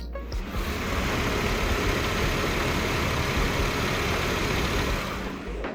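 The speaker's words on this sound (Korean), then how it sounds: "엔진 소음 또한 굉장히 정숙한 거 영상으로 확인해 보실 수가 있습니다." A SsangYong Chairman W CW600 Prestige sedan's engine idles outdoors, a steady, smooth, even hum that holds at a constant moderate level throughout, with no other sounds or voices.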